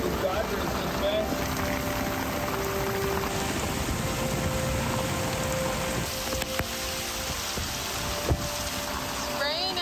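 Heavy rain drums steadily on an anchored sailboat and its dodger in 27-knot winds, a constant dense wash of droplets and gusting air with occasional knocks and faint voices beneath.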